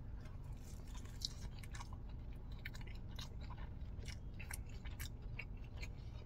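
Close, quiet chewing and crunching of a bite of Jollibee fast food dunked in gravy, with soft wet bites repeating steadily and no talk.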